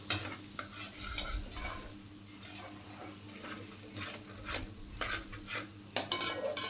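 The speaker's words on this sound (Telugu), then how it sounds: "అప్పుడు మనకి 2 కలిసిపోయేటట్టుగా ఆకుకూర ఎగ్ బాగా కలిపేసుకోవాలి." Spinach and egg fry is stirred in a pan with a spatula: repeated close scraping and clinking strokes over a gentle sizzle, with irregular bursts that grow sharper toward the end.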